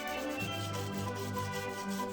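Sandpaper rubbing steadily over a 3D-pen-drawn Squirtle figure, a continuous close scratchy sanding texture with no talking.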